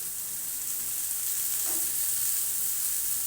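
Eggplant pieces frying in hot oil in a wok being swirled, a steady close sizzle with a brief soft scrape midway; no talk.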